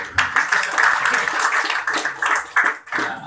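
A small audience at a testimonial event claps in short uneven bursts, the applause rising and dipping with brief gaps over a few seconds.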